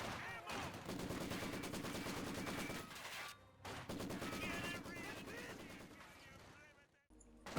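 In Company of Heroes 2, a squad's rifle and machine-gun fire crackles in sustained bursts over a busy battlefield, loud and layered, with a short lull midway and another near the end.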